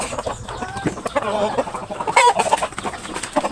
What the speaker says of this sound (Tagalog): So ito yung mga manok natin na Rhode Island Red.